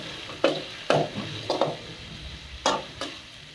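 A spoon stirs ginger-garlic paste sizzling in hot oil for mutton kulambu, with sharp scraping strokes against the pan at irregular intervals over a soft frying hiss, close and clear.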